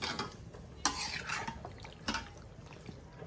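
Beef head skin being stirred and sautéed in a pan, a quiet close scraping and clinking of the spoon against the pan with a faint sizzle, a few sharper strokes standing out.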